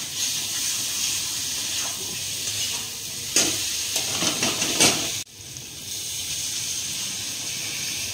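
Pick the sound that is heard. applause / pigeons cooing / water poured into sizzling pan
water poured into sizzling pan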